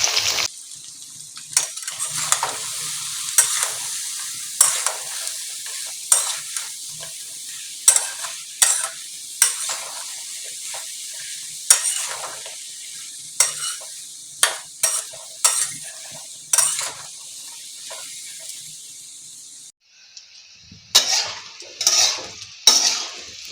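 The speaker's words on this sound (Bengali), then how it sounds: "এরপর আমি সাউথগুলো ভেজে নেব।" Saur fish pieces frying in oil in a wok, a steady close sizzle broken by repeated sharp scrapes and clinks of a spatula stirring against the metal, with no voices.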